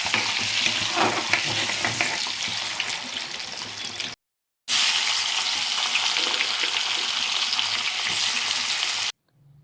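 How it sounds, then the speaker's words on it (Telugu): Onion frying in oil in a pan, a steady loud sizzle with stirring that runs continuously, breaks off briefly, then resumes before stopping. "అదే ఆయిల్లో ఆనియన్ కూడా ఫ్రై చేసుకుని మనం పీల్ చేసి పక్కన పెట్టుకున్న చామదుంపలు కూడా వేసుకుని కాస్త ఫ్రై చేసుకోవాలి"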